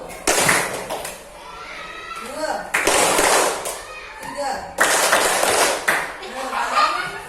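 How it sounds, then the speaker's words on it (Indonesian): A class of elementary school pupils claps in short, loud bursts during a counted clapping drill, each burst separated by a teacher's spoken instructions. "Tes dulu coba. Tepuk 1,"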